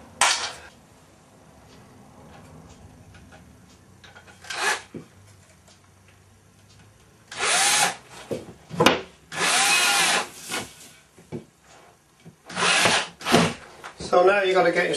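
A power drill drives a two-inch screw into timber for a cavity wall fixing, several short whirring bursts with pauses between them and handling noise in the gaps.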